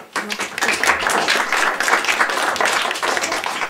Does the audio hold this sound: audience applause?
yes